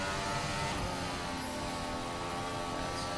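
A race car engine in Assetto Corsa at Bahrain drones loudly at high revs down the start-finish straight, a dense, steady roar slipstreaming behind a Haas.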